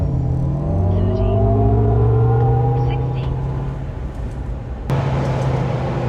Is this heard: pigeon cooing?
no